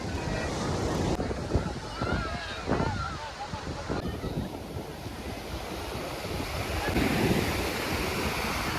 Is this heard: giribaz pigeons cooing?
no